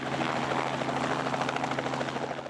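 A museum's tour helicopter in Wembley, Alberta, its rotor thumping rapidly over a loud engine whine, steady and close throughout.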